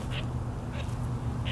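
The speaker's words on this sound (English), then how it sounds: "oh, there's a duck landed right behind me." A duck quacks three times in short, evenly spaced calls while landing close by on a wetland during a hunt, over steady low wind and water rumble.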